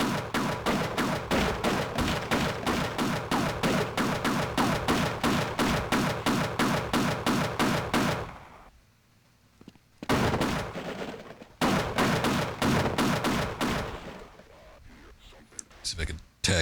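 Rapid automatic gunfire in the Half-Life PS2 port, a long run of evenly spaced loud shots, then a brief near-silence followed by further bursts.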